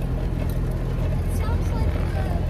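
A 2.3-litre EFI-swapped Ford Pinto Cruising Wagon engine runs with a steady low rumble close by, loud and continuous throughout, with someone speaking over it.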